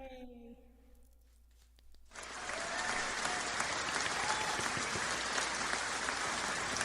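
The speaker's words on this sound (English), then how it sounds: "this is a round of applause from us three vocalists for you, chat" Steady applause with a broad, dense clapping texture begins abruptly after a quiet opening stretch with faint voices, then continues loud and sustained to the end, offered by three vocalists during a live music lounge stream.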